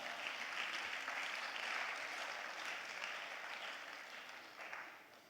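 Applause from a seminar audience, a steady wash of many hands clapping that stays fairly even before slowly thinning toward the end, with no voices on top.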